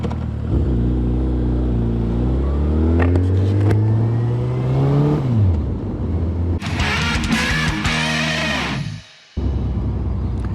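A motorcycle engine revs up and drops back repeatedly as gears are shifted while braking and slowing, a loud close rising and falling drone with a brief cut near the end.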